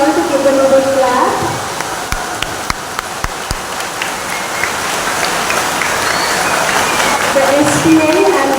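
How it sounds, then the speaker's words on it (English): School investiture ceremony audience clapping, a broad hiss of crowd applause with scattered sharp claps, fading slightly and then swelling again, with voices briefly audible in the background. "I request you all to give them a big clap."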